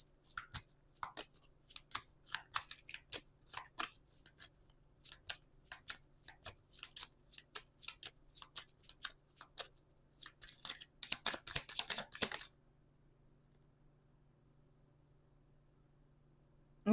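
Tarot cards shuffled by hand in a quiet room, a long run of quick crisp riffles and slaps in uneven bursts that speed up toward the end, then stop into near silence.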